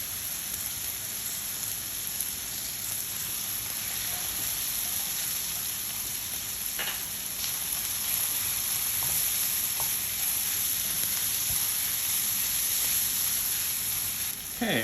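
Garlic for baked mussels sizzling in a pan, a steady bright hiss that stays even and moderately loud the whole time, with a few faint clicks of stirring and no talking.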